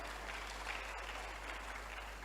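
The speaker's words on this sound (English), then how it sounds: "clap for them well." Audience at an empowerment and transformation summit applauds, a steady, fairly faint wash of clapping heard from a distance over a constant low hum, with no talk.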